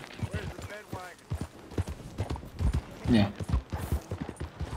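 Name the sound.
horse hooves clip-clop in video game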